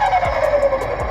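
A novelty sonic horn on a Nissan Pulsar SSS plays a sustained, loud, wavering tone. It sounds brief and close.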